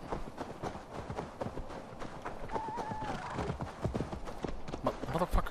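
A horse gallops in Assassin's Creed Valhalla, with rapid hoof clip-clops and a brief whinny over a rough outdoor bed, fairly close and busy, with a voice talking partly over it.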